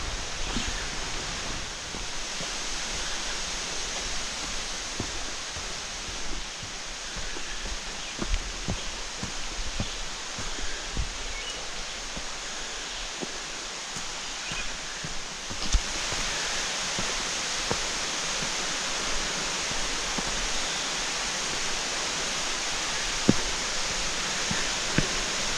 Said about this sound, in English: Right through here where little creek here's cut a quite the path through here.